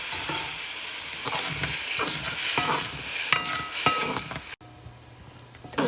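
Spices such as red chili powder and garam masala are stirred in a pot while making Gujarati dal, with repeated scraping strokes over a sizzling hiss that drops away near the end.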